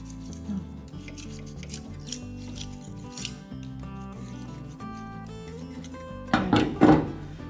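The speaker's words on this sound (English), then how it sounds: "And scrape everything off," A tool scrapes old gasket material off an intake manifold surface in short, gritty rubbing strokes, with a few knocks, ending in a louder burst of scraping.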